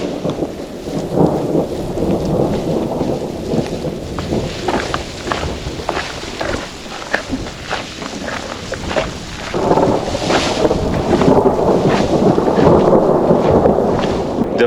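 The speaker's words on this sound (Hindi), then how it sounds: "नीचे उतरते वक्त बारिश के बीच ये थंडर स्ट्राइक" On the Churdhar trek in Himachal, about 12,000 feet up, thunder strikes during heavy rain while descending from the peak: a loud, sustained, rolling rumble that swells over a constant roar of rainfall.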